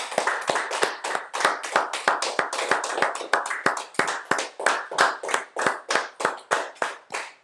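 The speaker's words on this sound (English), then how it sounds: "So the clapping is so that we can disintegrate any dirty energy" A group claps their hands in unison after an exercise, making about twenty sharp, evenly spaced claps in a steady rhythm, close and fairly loud, with no talking.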